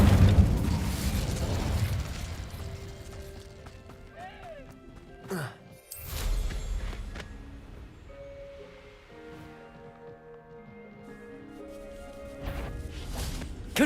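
Incendio fire spell cast in a Harry Potter video game, a rushing burst of flame and booms with magical whooshes and tonal effects. The sound swells, drops out briefly, then returns and fades into a lingering hum.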